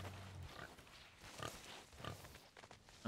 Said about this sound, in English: Oh, that's a pink pig.